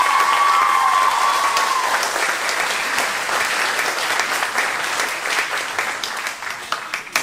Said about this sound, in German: Ein weiterer Applaus